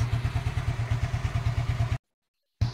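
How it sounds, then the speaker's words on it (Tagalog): A repaired Kawasaki Fury motorcycle engine runs at a steady idle with a rapid, even thumping pulse close to the mic, cutting out briefly before resuming. "So, nabuhay natin ulit yung kanyang motor."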